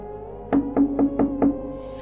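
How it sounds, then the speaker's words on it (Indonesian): Five evenly spaced knocks on a house door from outside, firm and fairly close, sounding over a quiet steady background with no talk. "ada suara yang mengetuk pintunya dari luar rumah"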